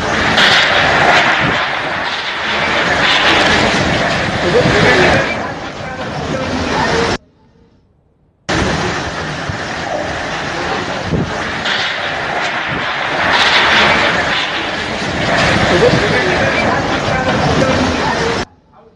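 Cyclone Nisarga's wind roars loud and continuous across a storm-battered coastal street, a dense broadband rush with one brief break, and no clear talk over it.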